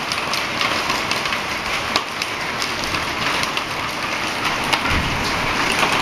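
Heavy rain pours steadily, a dense hiss with scattered sharper drop impacts, loud and continuous with no voices.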